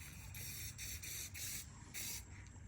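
A paint sprayer hisses silver paint onto an ATV frame in four or five short, even bursts with brief pauses between them, close and fairly loud over a low background hum, with no voices.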